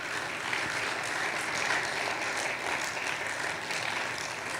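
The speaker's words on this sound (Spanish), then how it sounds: "Démosle un aplauso al Señor, amados hermanos" A church congregation applauds the Lord, a steady, dense wash of clapping from many hands that holds evenly throughout without any voices over it.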